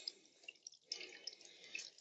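Soft, faint trickling water with small drips and splashes as a container slowly fills with tank water through a reverse osmosis filter, heard quietly without voices.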